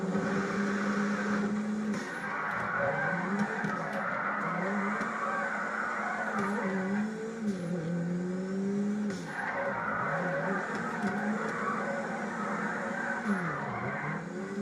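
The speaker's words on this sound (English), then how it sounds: "You notice that the car backfires a lot when I'm drifting." Car drifting in GTA 5, engine revving hard and rising and falling as tires squeal through long slides, with occasional sharp pops from backfires, loud and continuous.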